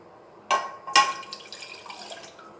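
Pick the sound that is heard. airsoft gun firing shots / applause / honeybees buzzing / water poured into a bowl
water poured into a bowl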